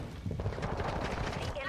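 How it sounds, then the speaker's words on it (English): Gunfire in a first-person shooter video game, a rapid clatter of shots mixed with distant bursts, moderately faint and continuous under a voice talking. "I'm getting shot from everywhere."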